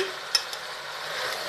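Carrot and potato sabzi with coriander being stirred and roasted in a pan: a steady soft sizzle with a couple of brief spoon scrapes near the start, close and fairly quiet.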